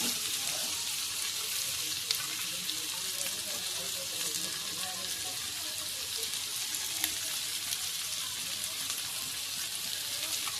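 Onion fries in a pan with a steady, dense sizzle that keeps going, with faint stirring clicks now and then and no talk.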